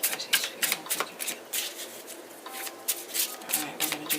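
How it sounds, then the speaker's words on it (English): Tarot cards are shuffled by hand in a quick series of crisp riffling bursts with brief pauses, close and moderately quiet. "Alright, we're going to do 3 shuffles."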